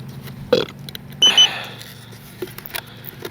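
An electronic flight timer alarm sounds in brief sharp beeps set for a 3 minute 45 second RC jet flight, heard near and loud over faint outdoor background with scattered clicks and bumps.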